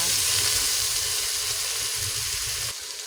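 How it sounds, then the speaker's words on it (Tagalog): Hotdogs frying in a pan while cooking sopas, a loud continuous hissing sizzle that drops in level near the end, no speech. "Nilagay ko na yung hotdog para maprito siya guys."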